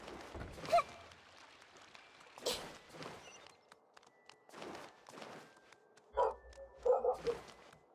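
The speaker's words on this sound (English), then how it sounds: "Ignore the dogs." Dogs bark in short, separate bursts in Genshin Impact, scattered across several seconds with a quick double bark near the end, set against quiet game ambience and a faint hum.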